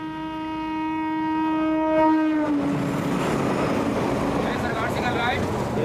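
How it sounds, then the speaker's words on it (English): An Indian Railways train horn blares a long steady note, then gives way to the roaring rush and rattle of a train passing close by. "make sure that his line is clear for the coming train"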